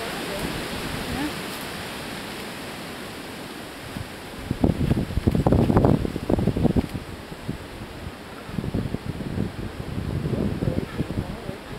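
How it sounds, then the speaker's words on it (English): Steady wind blowing outdoors, a broad rushing roar throughout, with gusty bursts that grow stronger toward the middle and end, and no clear voices. "And the wind comes."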